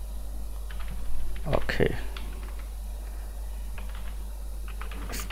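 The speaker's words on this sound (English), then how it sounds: "in the search box just type sticky notes like this" A few quick keystrokes tap on a computer keyboard while typing into a search box on Windows 10, set against a low steady hum, with a voice briefly speaking at the start.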